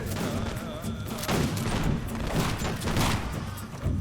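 Musket and rifle volleys in the Empire: Total War battle game, a dense rolling crackle of many shots with dull thumps, continuous and fairly loud, with no talking.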